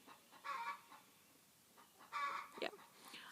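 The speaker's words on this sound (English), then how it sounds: "Can you guys hear the other hen that just laid an egg?" A hen clucks faintly in two bursts after laying an egg, calling from some distance against a quiet background, with a fainter squawk between the bursts.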